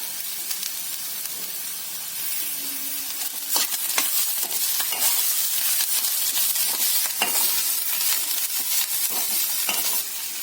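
Capsicum fries in a pan with salt, a loud close sizzle broken by repeated scraping stirs and clatters that grow busier partway through, with no voices.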